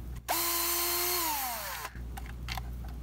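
A Black & Decker 18V cordless drill, powered by a Milwaukee M18 battery through an adapter, whines up to speed, holds a steady high-pitched run for a second and a half, then winds down and stops.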